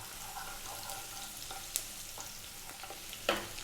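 Onion frying in a pan with a soft, steady sizzle while being stirred, faint scraping strokes and a couple of louder clacks of the spoon against the pan.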